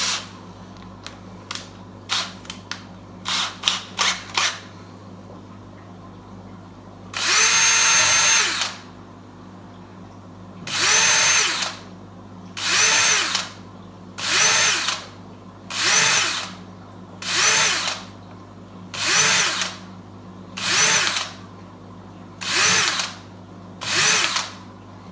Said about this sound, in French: Un de plus petit diamètre, genre 3 mm, ça serait très bien. Et on va faire une bonne douzaine de trous.